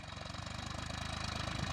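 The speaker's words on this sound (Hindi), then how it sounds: "ये ट्रैक्टर कितना बढ़िया चल रहा है, देखिए आप।" Massey Ferguson 1035 DI 40 HP tractor running, a quiet diesel engine chugging with a fast, regular pulsing beat that keeps an even rhythm throughout the brief stretch.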